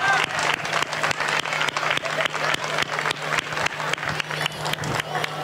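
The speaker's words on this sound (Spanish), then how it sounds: "Otro aplauso para ellos." Steady crowd applause fills a festival proclamation for the Mirador del Atlántico fiestas, dense rhythmic clapping from many hands sustained throughout without voices on top.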